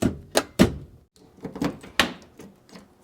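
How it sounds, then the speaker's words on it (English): Heavy door of an old Pontiac Star Chief barn-find car opening, giving a few solid thunks and clunks spaced over a few seconds, close and fairly loud with no talk. "Opens like a bank door."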